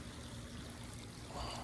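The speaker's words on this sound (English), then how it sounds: "you get this cool, it's like a little waterfall system. Waterfalls off all the sides" Water spills continuously from a small waterfall feature running off the sides of a good-sized backyard spa, a steady, soft rushing wash heard fairly close with no talking.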